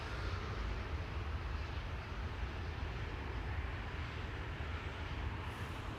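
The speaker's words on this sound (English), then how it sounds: "Air France Bombardier C Series over here." An Air France Bombardier C Series jet airliner departs Amsterdam Schiphol, its engine noise forming a steady, moderately loud broadband roar that stays level throughout.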